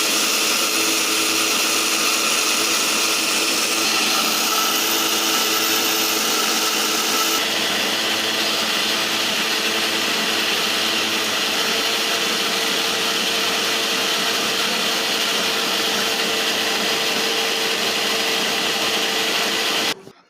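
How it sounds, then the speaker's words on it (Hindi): A mixer grinder milling rice into flour runs with a steady, loud whirring drone that stays even throughout and stops abruptly at the end, with no voices over it. "और ये मिक्सी मुझे बहुत पसंद आई, क्योंकि इसकी आवाज़ भी बहुत कम है"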